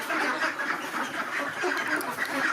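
A crowd of ducks quacks loudly and continuously, overlapping calls forming a dense, raucous chorus close by.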